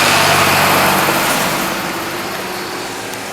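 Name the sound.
farm tractors driving in cotton field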